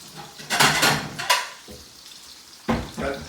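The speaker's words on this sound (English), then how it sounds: "Mix your salad, toss it really well, get everything coated nicely." Salad tossed and mixed in a pot with a soy sauce, oil and lemon-lime soda dressing, giving a few close bursts of clattering and scraping against metal, with quieter gaps between strokes.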